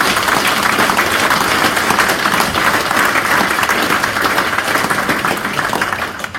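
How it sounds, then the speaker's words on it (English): A crowd applauds at a live motorcycle racing event at Cadwell Park, dense and loud clapping that holds steady for several seconds and then begins to fade near the end. "Give him a round of applause."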